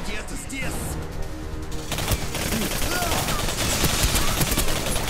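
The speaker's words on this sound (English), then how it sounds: "Why are you shooting me?" Gunfire rings out in the first-person shooter game Singularity, a rapid dense fusillade that holds steady under the game's score and effects, with a voice talking across it.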